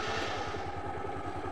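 A parked scooter, left standing three days, runs with a steady low engine chug, loud and close, with a regular pulsing rhythm and rattly mechanical clatter throughout.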